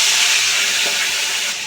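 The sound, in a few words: fish heads hissing as dropped into hot oil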